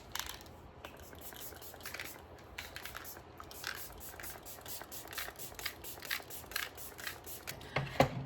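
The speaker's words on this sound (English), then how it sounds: "And we're gonna spray it everywhere." Setting spray misted across the face during a makeup routine, heard as a series of short, soft hissing bursts in steady rhythm, close and fairly quiet, with no talking.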